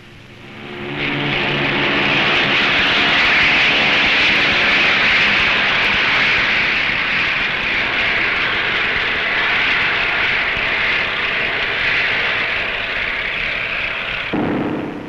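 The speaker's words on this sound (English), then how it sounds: "who are flying 10 new Avro biplanes to Egypt to augment their army air force" Avro propeller biplanes fly overhead with a loud, steady engine drone that starts abruptly, holds for roughly thirteen seconds, then cuts off.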